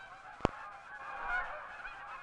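A flock of Canada geese migrating north in spring, with one sharp honk standing out near the start above a soft, steady wash of distant calls and wind.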